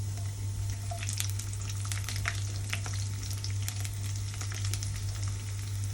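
Ginger and garlic sizzle in hot oil in a pan, a steady dense frying crackle with scattered sharper pops and occasional stirring, constant and close, with a low hum running underneath and no talking.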